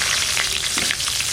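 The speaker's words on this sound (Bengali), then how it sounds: "আলুটা ভেজে নেব।" Sliced potatoes fry in hot oil in a pan, giving a loud, steady close-up sizzle with small crackles and faint stirring scrapes, and no voices.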